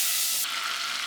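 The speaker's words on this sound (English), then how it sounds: "This is butter. Add it and allow to melt." Butter melting in a hot pan for a white sauce, a steady, loud, close sizzle with continuous fine crackle and no talking.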